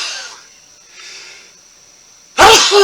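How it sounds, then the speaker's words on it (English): A single sharp, loud sneeze bursts out near the end after a stretch of quiet breathing and faint background hiss, spoken during a casual cross-stitch chat. "About to sneeze."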